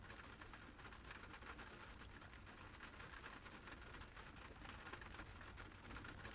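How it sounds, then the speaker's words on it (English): Steady rain falls in a quiet scene from the visual novel game Witch On The Holy Night, an even, faint patter that holds without a break and with no voices. "The sound of the rain echoed quietly all around her."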